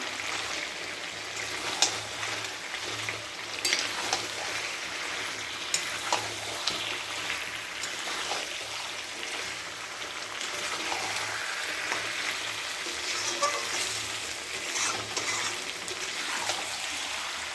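Fried potatoes are stirred into a simmering chicken curry in a pan, giving a steady close sizzle with scraping spoon strokes throughout, no talking.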